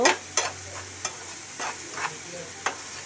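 Onions fry in a pan with a low background sizzle while a spoon scrapes through them in about seven quick, separate strokes.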